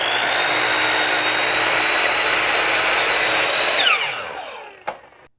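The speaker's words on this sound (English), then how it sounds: "I need to cut this piece off so it's nice and straight, and I'm going to do that with my miter saw" A miter saw slices through a shiplap board, a loud, steady roaring whine for about four seconds before the blade winds down, ending with a sharp knock.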